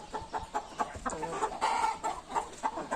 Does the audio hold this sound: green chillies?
no